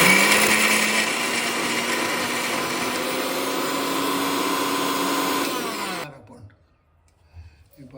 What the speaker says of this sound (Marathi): हे आता सगळं आपण मिक्सरमध्ये फिरवून घेणार आहोत